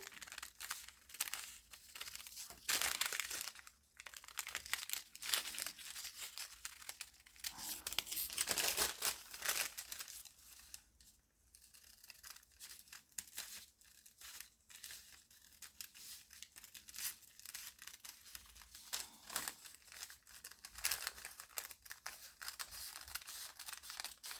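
Paper sewing pattern for a basic sleeve being cut along its vertical cutting lines, producing close, continuous crinkling, rustling and scissor snips in uneven bursts, with no talk.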